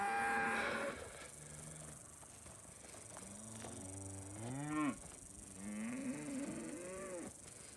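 Brangus cattle in South Texas brush country mooing, several drawn-out rising and falling bellows up close with a loud burst at the start and another call near the end, no talk.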